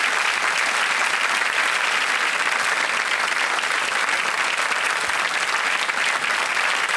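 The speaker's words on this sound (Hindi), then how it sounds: "हम चाहेंगे जोरदार तालियां बज जाएं इनके लिए।" Loud, sustained applause from a studio audience on a televised quiz show, a dense, even wash of clapping that continues without a break from start to finish.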